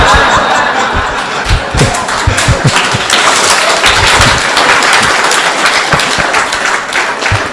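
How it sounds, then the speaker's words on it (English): A large audience at a spiritual talk on chanting breaks into loud, dense, sustained applause with some laughter mixed in, the clapping filling the room without pause. "I don't know if I deserve an applause for that"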